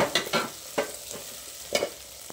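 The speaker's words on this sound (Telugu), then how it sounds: "నూనెలో వేగేస్తాను" Chopped onions and green chillies being stirred in hot oil, with a few scraping stirs and a soft sizzle, close and fairly quiet.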